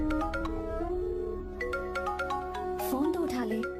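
A mobile phone ringtone plays loudly in a film scene, a bright repeating electronic melody that fills the short stretch with no talk over it.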